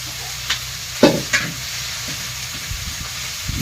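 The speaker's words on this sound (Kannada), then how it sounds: "ನಾನು ಫ್ರೈ ಮಾಡ್ಬೇಕು ಅದನ್ನ ಫ್ರೈ ಮಾಡ್ಕೊತೀನಿ" Fenugreek leaves fry in hot oil with a steady sizzle, broken by a few louder stirring scrapes and clatters of a spoon against the pan.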